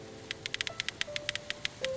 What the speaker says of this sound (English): It feels like the rain will never stop, each drop heavier than the last.